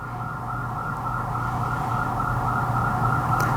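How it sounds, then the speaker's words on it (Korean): A steady siren drones continuously in the distance, a sustained wailing tone over low traffic rumble, with no voices. "앰뷸런스 소리 들립니까?"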